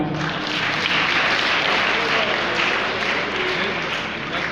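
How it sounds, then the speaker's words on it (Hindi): Dense, loud applause from an audience at a government event in Rajasthan marking the virtual foundation of a nursing college in Nagaur, continuous clapping throughout with a faint murmur underneath. "जोरदार तालियां।"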